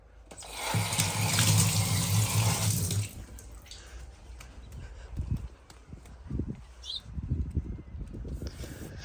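Water is splashed hard onto someone in a Marathi household skit, a loud rushing gush lasting about three seconds, then quieter movement and thuds.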